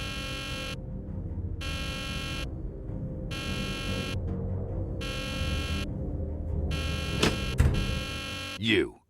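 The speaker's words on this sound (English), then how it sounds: "This was not what I expected when I set the alarm." Loud pulsing alarm buzzer from the video game Nancy Drew: The Deadly Device, sounding in a steady on-off rhythm of about five long blasts before a brief clatter and a sudden cutoff.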